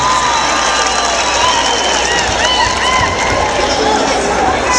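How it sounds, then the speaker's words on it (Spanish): A large crowd at a university roping rodeo in an arena applauds and cheers steadily, a dense continuous wash of clapping with scattered shouts and whistles throughout. "Si usted quiere que gane los amigos del cemento, siente el aplauso."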